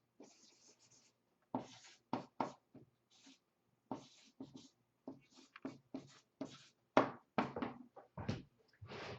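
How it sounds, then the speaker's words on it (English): Pen writing on paper during a physics impulse and momentum lesson, a series of close scratchy strokes in short bursts with brief pauses, steady and fairly quiet with no talking. "Just as an exercise, I'll write it down."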